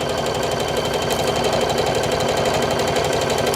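A sewing machine runs a back-and-forth stretch stitch on a sewing project, giving a steady, close, even mechanical whir with a fast regular rhythm, heard alone and without a break.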